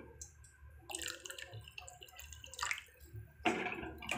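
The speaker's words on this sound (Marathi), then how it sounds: "आणि परत अजून वरून अर्धा ग्लास पाणी ॲड करणार आहे ती." Water poured into a simmering curry (rassa) being thinned in a home kitchen, heard as several bursts of splashing and pouring with quieter gaps between, moderately close.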